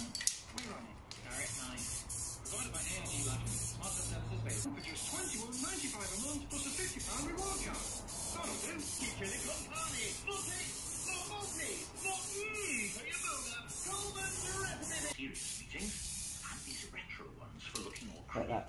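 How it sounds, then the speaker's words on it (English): Aerosol can spraying in long hissing bursts with short pauses between them, close up, with faint talk underneath. "then you can spray it black"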